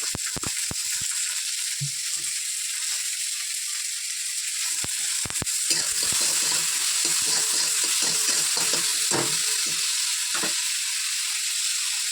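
Tomatoes with salt fry in a pan with a loud, continuous close-up sizzle and hiss, broken by sharp clicks of a utensil early on and rougher stirring scrapes in the second half.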